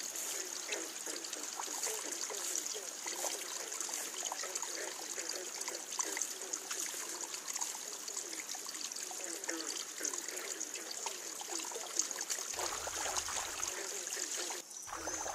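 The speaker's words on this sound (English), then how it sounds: "The sound of running water prompts the beaver to seal the small leak." Running water trickling through a small leak in a beaver dam in a pond in late spring: a soft, steady, bubbling trickle that continues unbroken throughout, faint and close, with no voices.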